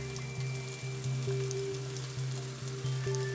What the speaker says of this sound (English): I want those spices to really hit the heat and saute around to develop their flavor